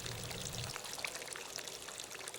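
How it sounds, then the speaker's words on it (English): Water flowing through the channels and fountains of the Alhambra palace in Granada, a faint continuous splashing trickle with a low rumble that drops away early on. "An abundant supply of water circulates throughout the palace, supplying its fish pools, sparkling in jets within its halls or murmuring in channels along the marble pavements"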